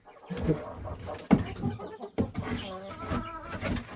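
A small rooster crows inside a chicken coop, its harmonic calls rising and breaking in several drawn-out bursts close by, with brief clucks and other fowl sounds mixed in.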